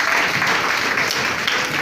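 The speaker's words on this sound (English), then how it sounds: "And Let's clap for the group." Brief, dense audience clapping for a group at a teachers' pre-workshop presentation in Gboko, Benue State, steady and close throughout.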